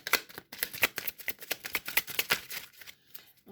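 Playing cards drawn and slid from a deck, a busy run of quick papery flicks and snaps, close and fairly soft, tapering off toward the end.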